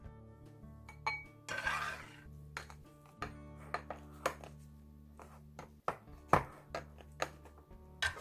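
Egg fried rice with sesame oil being moved from a bowl onto a plate, with a run of clinks, scrapes and taps of utensil against dishware, irregular and close, with one longer scraping rustle early on.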